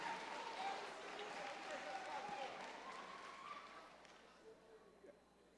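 Audience applause at an eighth grade promotion ceremony, a broad steady wash of clapping from a large crowd that gradually thins and fades toward the end.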